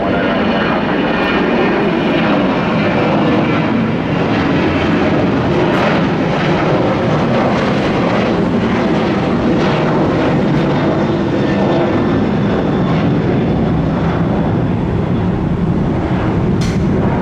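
A Spirit Airlines jet landing at Tampa International Airport makes a loud, continuous engine roar with broad rushing noise that stays strong throughout.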